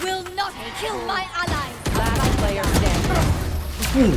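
Bursts of gunfire from the tactical shooter Valorant, sharp broadband cracks crowding the second half under almost constant excited voices talking over the action.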